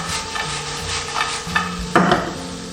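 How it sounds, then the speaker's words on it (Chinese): Okra tossed with salted egg yolk in a wok over high heat: scraping spatula strokes and soft sizzling, with a sharper metallic scrape near the end, close and fairly loud. "大火翻炒1分钟"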